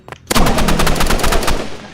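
Machine gun fire in the video game Rivals: a short lead-in shot, then a loud, dense, continuous automatic burst with rapid evenly spaced reports lasting over a second and a half.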